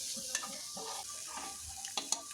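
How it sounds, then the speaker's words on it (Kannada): Chopped tomato and onion fry in oil in a pan for a long beans palya, giving a soft continuous sizzle broken by a few sharp clinks of a stirring spoon. "ಅದು ಸ್ವಲ್ಪ ಫ್ರೈ ಆದಮೇಲೆ ಅದಕ್ಕೆ ಒಂದು ಟೊಮೆಟೊ ಕಟ್ ಮಾಡಿ ಹಾಕ್ಕೊಂಡಿದ್ದೇನೆ."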